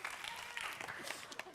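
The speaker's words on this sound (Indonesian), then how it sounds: "Silakan berikan tepuk tangan untuk pasangan calon nomor urut 3." Applause for candidate pair number 3 at a public debate for regent and vice regent candidates of North Halmahera, a brief burst of steady clapping from the hall.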